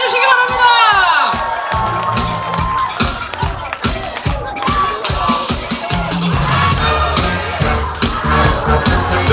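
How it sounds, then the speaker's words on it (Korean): Outdoor festival crowd in Ulsan cheers loudly and whoops as a singer is introduced, with children shrieking, rhythmic clapping and shouted voices over pounding beats throughout. "소개드리면 박수와 함성 크게 주시기 바랍니다"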